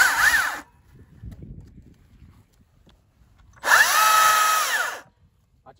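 A Stihl MSA 220 C battery chainsaw on a 36 V AR 2000 pack whines loudly through two cuts into garden firewood, a short burst then a longer one, with quiet handling noise in between.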